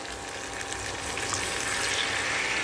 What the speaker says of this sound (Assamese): মাংসখিনি ফ্ৰাই কৰা হৈ গৈছে, এতিয়া ইয়াত মই ঢালি দিম গৰম পানী।